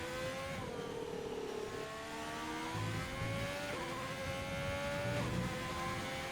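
An F1 racing car engine from the game F1 2020 screams steadily through the second sector of the Hungarian GP on fresh tyres. The high whine rises and drops with each gear change, and a faint commentary voice talks underneath.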